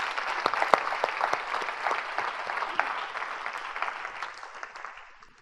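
Church congregation applauding together, a dense steady patter of many hands clapping that holds strong and then tapers off near the end.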